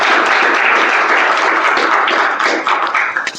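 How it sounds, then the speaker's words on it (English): Meeting audience applauds a member, a dense sustained wash of clapping from many hands, close and loud, tapering slightly at the end. "Give it a round of applause for this gentleman."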